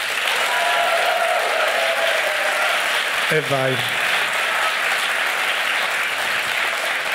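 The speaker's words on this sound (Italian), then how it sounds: "Applauso." Studio audience applause rises at the taping of an Italian talk show, a dense sustained clapping wash that carries throughout, with a brief spoken voice cutting in near the middle.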